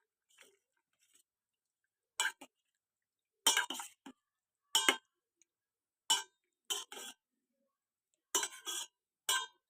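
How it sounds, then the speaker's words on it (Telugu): A spoon stirs bottle gourd milk curry in a pot, giving short scraping clinks in separate bursts with quiet gaps between them, close and fairly soft, with no talking. "ఇప్పుడు కలుపుకుందాం."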